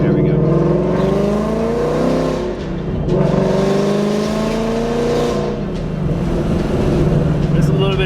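Inside a 2019 Mustang GT fitted with 1 7/8-inch long tube headers and a Solo Performance exhaust, a loud deep V8 drone rises and falls as the car accelerates, with someone talking over it.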